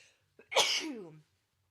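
A single loud, close sneeze bursts out after a short sharp intake of breath, then silence.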